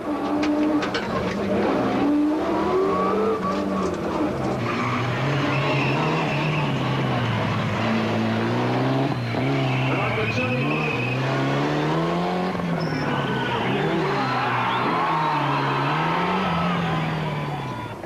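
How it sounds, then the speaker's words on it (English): Rally cars race a night stage of the 2004 Sasol Rally, their engines roaring and revving steadily throughout, heard from close by as from inside the car, under a commentator's narration. "As can be seen from Gemmel's in-car camera, picking the route out at night is no easy task"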